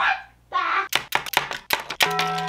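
Toy dart cannon on a fake LEGO Star Wars ship firing, a sharp snap followed by a quick run of clattering knocks and taps close by, with a short plastic rattle before it.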